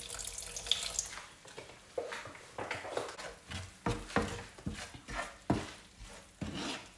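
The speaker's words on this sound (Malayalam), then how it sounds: "അല്പം വിനാഗിരി ഒഴിക്കുകയാണ്." Vinegar is poured into homemade mango pickle in a kitchen, giving a run of splashy, trickling liquid sounds in short repeated bursts, with a few clinks, close by and moderately loud.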